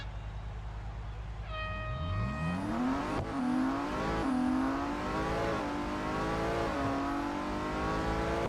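A car accelerates hard in a Real Racing 3 drag race, engine whine climbing steeply through repeated gear shifts, each upshift dropping the pitch before it rises again, fairly loud and alone.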